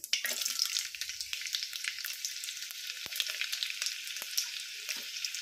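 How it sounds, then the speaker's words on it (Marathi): Halved peeled garlic cloves sizzle steadily in hot oil for tempering, a continuous crackling fry with small pops, close up and without talk. "लसूण सोलून घेतलेला आणि अर्ध्या पाकळ्या केलेल्या आहेत त्या फोडणीला टाकणार आहोत"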